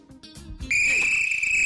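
A person whistles a single steady, piercing note that starts abruptly and holds loud and close to the end, preceded by a moment of muffled background sound.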